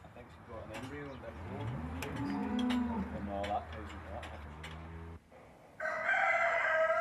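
Dairy cattle on a farm in Fermanagh low with long, drawn-out moos, fairly close. A rooster crows loudly near the end.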